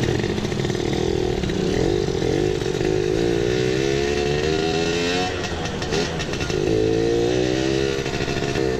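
An old Suzuki Satria motorcycle engine revs steadily and loudly up close, its harmonic drone rising and falling through repeated throttle blips for about nine seconds with no talking.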